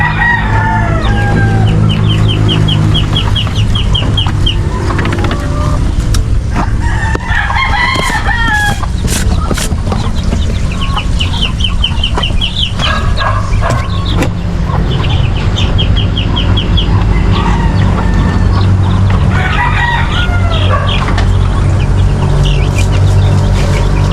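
Chickens in a small backyard farm cluck and squawk repeatedly, with a rooster crowing several times, loud and close over a steady background.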